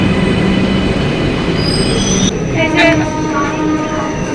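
A metro train rumbles loudly at close range at a platform, its wheels squealing in high, whining tones as it slows, with a faint murmur of voices in the background.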